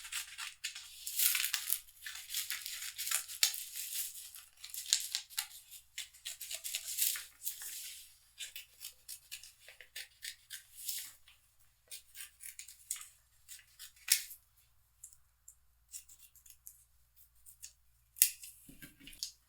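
Scissors snipping stars out of glossy magazine paper at a preschool art table, a long run of close, crisp rhythmic cuts with papery rustles between strokes and no talking.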